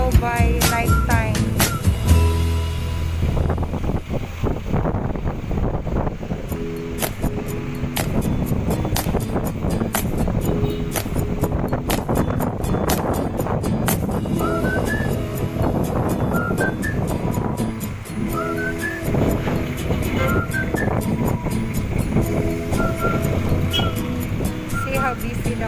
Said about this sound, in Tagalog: Just letting the cars go by nighttime.